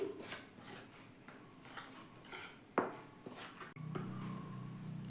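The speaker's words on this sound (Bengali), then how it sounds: "এবার চালের গুঁড়োর সঙ্গে লবণটা ভালো করে আমি আগে মিশিয়ে নিচ্ছি" A spoon clinks and scrapes against a bowl while rice flour and salt are mixed by hand, with irregular metallic taps and rattles, followed by a steady low hum near the end.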